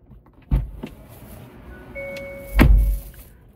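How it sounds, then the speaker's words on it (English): A 2025 Hyundai Creta car door slams shut with a solid, low thud, followed a couple of seconds later by another heavier thunk and a faint whirring tone. "you can hear the thud of the door"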